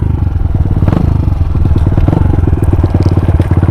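A supermoto motorcycle engine revs hard in second gear for a wheelie, giving a loud, close, rapid thumping pulse with clattery mechanical texture that holds steady throughout.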